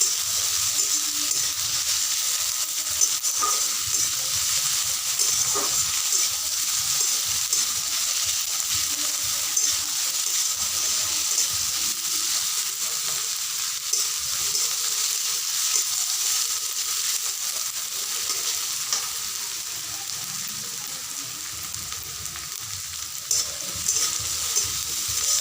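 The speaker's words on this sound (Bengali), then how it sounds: "পেঁয়াজগুলো হালকা ভাজা হয়ে গেলেই আমি গাজরগুলোকেও দিয়ে দিব।" Onions fry lightly in a pan for a Maggi egg omelette, giving a continuous close sizzle with intermittent stirring clatter and scrapes, easing slightly toward the end.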